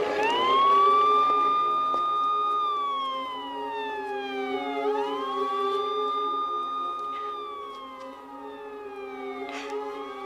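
Ambulance siren wailing loudly and alone, rising and falling in long sweeping tones, close by on a French street.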